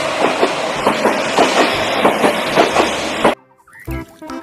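A toy high-speed train runs along with steady rhythmic clickety-clack wheel clatter for about three seconds, loud and close, then cuts off abruptly into brief quieter handling noises.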